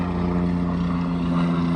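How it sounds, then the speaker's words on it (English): Helicopters passing overhead on a spring day, a loud steady rotor and engine drone with strong low harmonics holding constant throughout, no voices. "There are lots of helicopters flying around today for some reason."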